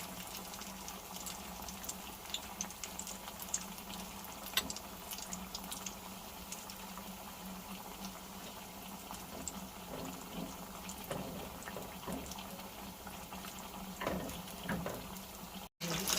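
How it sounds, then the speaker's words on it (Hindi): Two pieces of chicken fry gently in oil over low heat, making a faint, continuous, even bubbling sizzle. A few small clinks break in near the end. "दो पीस अपने सामने डाल दिए इसमें। अब देखते हैं इसको हल्की आंच पे पका रहे हैं।"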